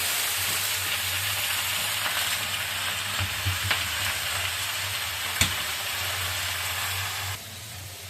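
Spinach hits a pan of frying potatoes with a continuous loud sizzle and hiss, a few faint clinks and knocks of stirring breaking through before the frying quiets slightly at the end.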